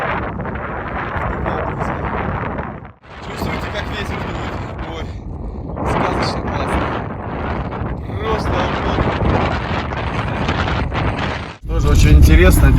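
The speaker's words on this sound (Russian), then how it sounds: "Чувствуете, как ветер дует?" Strong wind gusting across open sand dunes at an outdoor festival in Tuva, a loud continuous roar buffeting the microphone with brief lulls, while people talk over it.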